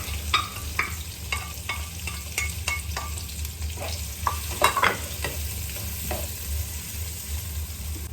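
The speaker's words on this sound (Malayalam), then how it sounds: "അതിനുശേഷം നമ്മൾ കട്ട് ചെയ്ത് വെച്ചിരിക്കുന്ന ഉള്ളി പച്ചമുളകും കൂടി ഇട്ട് കൊടുക്കണം." Onion and green chilli frying in hot oil with mustard seeds and curry leaves for egg bhurji, a steady close sizzle broken by repeated scraping stirs of a spoon against the pan, with no talking.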